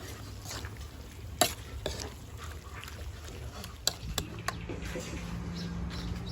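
Spicy wild boar curry being stir-fried in a pan, a soft steady sizzle with a few sharp scrapes and clacks of a utensil against the pan scattered through, with faint background sounds.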